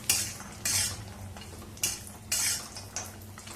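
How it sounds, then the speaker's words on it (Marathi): Turmeric roots frying in oil in a kadhai, with sharp bursts of a utensil scraping and stirring against the metal pan at irregular intervals over a faint sizzle, close and clear with no talking. "आता त्याच तेलामध्ये हळकुंड घालूया. हळकुंड थोडीशी फोडून घेतली आणि चांगली तळून घेऊया."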